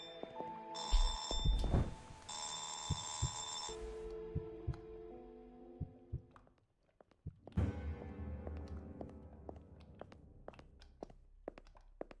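A telephone rings inside the dark adventure video game Burnhouse Lane: bright repeated ring bursts, followed by scattered knocks and clattering in-game sounds.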